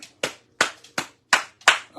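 A handful of sharp hand claps in an uneven rhythm, five or six distinct slaps from one person close by, with short silences between them.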